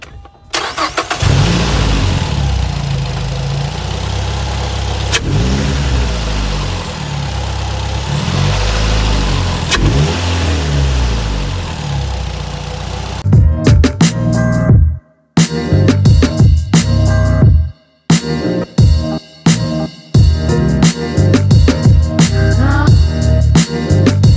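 A 2010 Mazda 3 with a 2.5L engine and Corksport short ram intake cranks and starts, idles loudly up close, then is revved in repeated sharp bursts with brief drops between, no talking.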